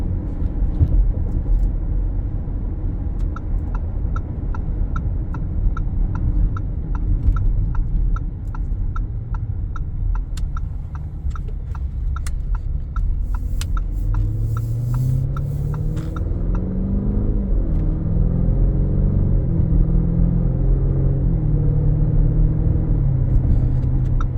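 A 2019 Lamborghini Urus drives along with a low, steady engine rumble from inside the cabin, a turn-signal ticking rhythmically for a stretch, then the engine note rising in a few smooth accelerating sweeps.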